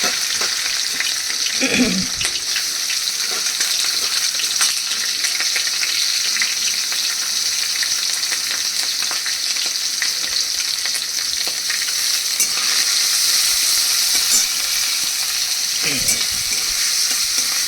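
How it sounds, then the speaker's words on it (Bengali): Grated coconut fries in a spice tempering with cinnamon and cardamom for a chana dal, giving a steady, loud sizzle with occasional scraping stirs, close up and with no talk. "এবার দেখে ফোড়নটার মধ্যে আমি দিয়ে দিচ্ছি নারকেল কোড়াগুলো, নারকেল কুচনোগুলো।"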